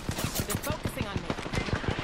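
Rapid automatic gunfire in Apex Legends during Season 15 on the Broken Moon map, a steady run of close, punchy shots at an even fast rhythm lasting about two seconds.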